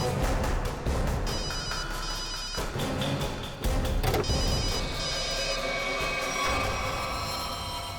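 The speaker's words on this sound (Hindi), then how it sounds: "रिंग तो बज रही है।" A phone rings with a repeating electronic tone amid busy, rumbling background noise, continuous throughout.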